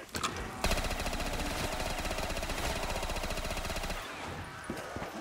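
A PPSh submachine gun in Black Ops custom zombies fires a long, loud, unbroken burst for several seconds, then stops, leaving quieter game sounds and a few clicks.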